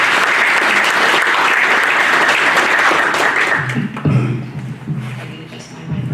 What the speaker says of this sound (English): So I'd really appreciate a round of applause for them too.